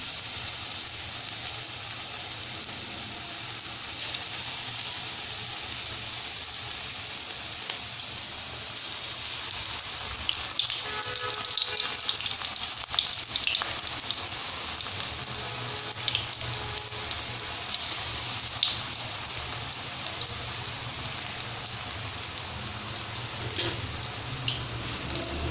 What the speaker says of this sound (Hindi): अब हम इसके अंदर दरमियाने साइज़ के पकोड़े डालेंगे